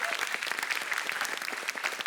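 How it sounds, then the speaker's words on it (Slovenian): An audience at a speed cup stacking final claps briskly for a short burst, a dense patter of many hands that is moderately loud and fairly close. "En velik aplavz!"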